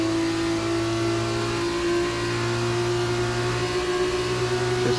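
F2 race cars in F1 2019 launching off the start grid at Barcelona's Circuit de Catalunya, a steady loud engine drone with strong tonal whine sustained throughout, several cars close together.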